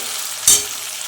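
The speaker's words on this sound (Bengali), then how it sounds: "টমেটোগুলো নাড়তে থাকবো যতক্ষণ না গলে যায়।" Winter tomatoes frying in a pan for a restaurant-style egg tadka hiss steadily, with one brief, louder scrape of stirring midway and no speech.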